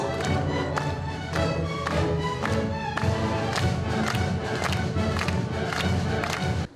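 At a Kaohsiung concert, an audience claps in rhythm as an orchestra plays Strauss's Radetzky March. Loud, regular crowd clapping keeps time over the music throughout.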